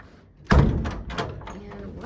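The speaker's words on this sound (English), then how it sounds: "Let's shut this door, and we're gonna shut this door." A door swings shut with a heavy thud in a house at Château de la Grifferaie, followed by a muffled, rumbling room tail and faint background sound.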